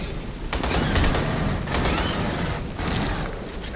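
Sustained gunfire from the video game Aliens: Colonial Marines, a dense continuous roar of shots with brief dips, loud and close throughout.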